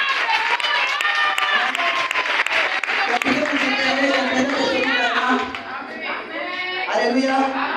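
Congregation in a Brazilian church applauding for Jesus after a testimony, loud continuous clapping and crowd voices with cheering and shouts rising over it, thinning out toward the end.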